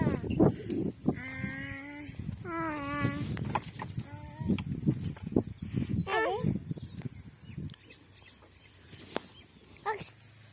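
Goats bleat several times in short, wavering calls close by, amid people talking and scattered farmyard noises.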